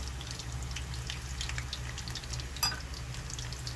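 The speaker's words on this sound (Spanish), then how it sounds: "Vamos a ponerle para que fríe ahí." Plantain slices for patacones fry in hot oil with a faint, steady sizzle and scattered tiny crackles, one sharper pop near the end, over a low background hum.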